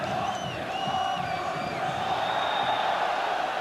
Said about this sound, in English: the only people you can hear now are the Manchester United fans